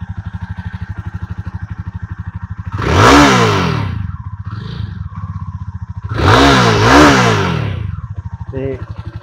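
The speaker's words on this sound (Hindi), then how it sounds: "हाँ एक बार मैं थोड़ा यदि एग्जॉस्ट नोट भी सुना दिना, ये एग्जॉस्ट नोट है।" A 2021 Jawa Perak motorcycle idles with a steady, rapid thumping exhaust pulse close by, and someone talks over it in two short stretches.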